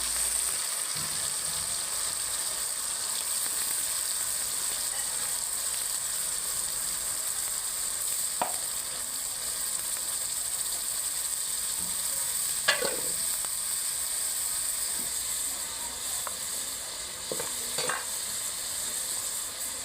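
Fish curry sizzles and fries in a pan over a firewood stove, a steady close hiss running throughout with a few faint clinks and scrapes of stirring.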